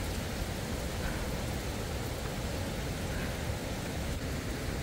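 Rain falling steadily around a hill-station tea estate in Valparai, a constant soft hiss with no distinct drops or other sounds standing out.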